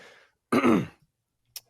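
A single throat clearing, a short rough rasp lasting about half a second, close and fairly loud, then a faint click and a brief breath.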